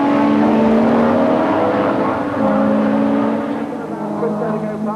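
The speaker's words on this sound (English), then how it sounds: "Andy Rouse is fighting for his life and first place now, because Win Percy is swarming all over the rear of the Ford Cosworth" Nissan Skyline R31 GTS-R and Ford Cosworth touring cars racing at the 1988 British Touring Car Championship, a loud steady engine drone with rising and falling tones as the cars pass, under commentary.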